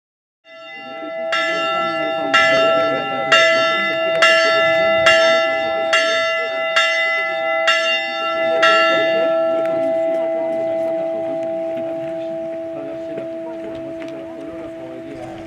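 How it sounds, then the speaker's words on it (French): Church bells ring at 11 o'clock to announce the start of mass at Notre-Dame de Vie: about eight regular, resonant strikes over a sustained humming tone, then a long fading ring. "les cloches retentissent pour annoncer le début de l'office religieux"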